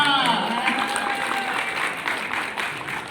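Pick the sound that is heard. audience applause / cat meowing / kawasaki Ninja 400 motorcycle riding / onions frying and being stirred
audience applause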